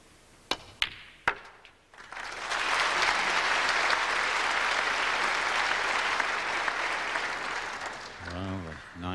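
Applause from a snooker audience at the 1990 UK Championship final between Hendry and Davis: a few sharp claps, then a steady, loud round of clapping that holds for about six seconds before a commentator's voice returns.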